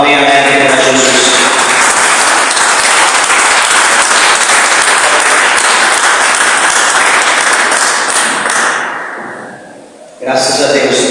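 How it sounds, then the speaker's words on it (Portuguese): A church congregation at a Portuguese-language worship service gives loud, dense applause for Jesus, a sustained wash of clapping that briefly drops away, then bursts back in. "dê uma salva de palmas bem alegre para Jesus"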